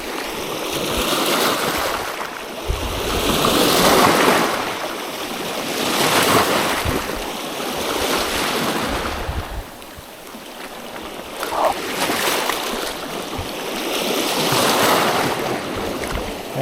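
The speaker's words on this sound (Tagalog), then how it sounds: "Malaki ng alon." Big ocean waves at sea off Marinduque during night abalone gathering, with heavy surf surging and receding in slow swells, loud and close with wind rushing over the microphone.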